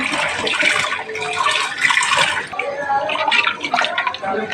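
Lentils and water splash and slosh into a pot while cooking daal gosht, with uneven pouring and bubbling sounds close by, under a woman's speech.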